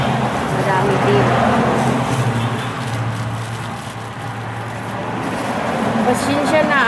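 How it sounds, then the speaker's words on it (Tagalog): Vehicles rumble past on a road right beside a house, a loud, continuous traffic wash that swells and dips slightly, with someone talking over it throughout. "maingay ang mga sasakyan. Kasi naman malapit lang ako sa nasa gilid lang ng kalsada yung sa amin."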